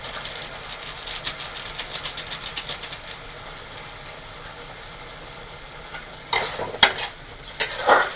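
A spoon scrapes and clinks in a pan of tomato paste masala with salt and chili powder: rapid, rhythmic scraping at first, then quieter, then a few louder metallic clatters near the end, with no talking.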